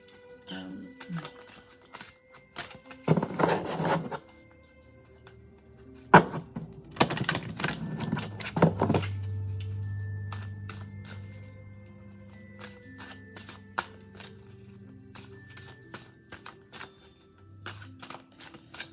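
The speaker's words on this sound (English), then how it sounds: "I'm going to shuffle" Tarot cards shuffled by hand in brisk riffling bursts, close and crisp, followed by a softer lingering hum and scattered taps, with someone speaking during parts of it.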